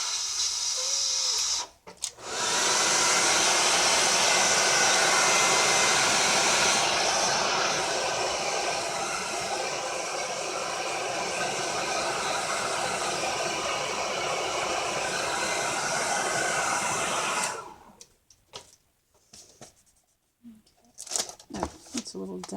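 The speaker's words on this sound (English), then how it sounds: "I'm gonna blow dry this one more time" A hair dryer blasts in one loud, steady roar for about fifteen seconds while drying a painted book cover, then cuts off, leaving faint clatter and small handling noises.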